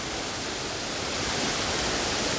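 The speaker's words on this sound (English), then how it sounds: "So here we are with the first waterfall." A waterfall roars in a broad, unbroken wash of rushing water, loud and close, with no voices over it.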